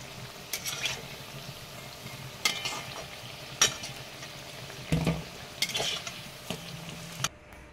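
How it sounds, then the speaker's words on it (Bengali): Drumstick leaf fritters fry in hot oil, a soft continuous sizzle with occasional clinks and scrapes of a utensil against the pan, fairly quiet and close. "বাকি বড়াগুলিকে আবার ভেজে নিচ্ছি। দিয়ে দিচ্ছি তেলে, গোল গোল করে বানিয়ে নিয়েছি।"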